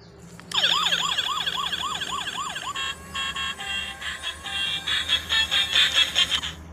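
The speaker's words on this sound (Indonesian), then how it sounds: "mobil patroli polisi lalu lintas berwarna kuning dilengkapi dengan lampu sirine" A toy police patrol car siren wails in quick rising sweeps, then switches to a rapid electronic warble, fairly loud and close, with no talking.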